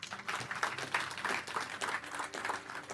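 Members of a church congregation at GSKI Kebon Jeruk clap together in a modest, scattered round of applause, steady for a few seconds at moderate volume.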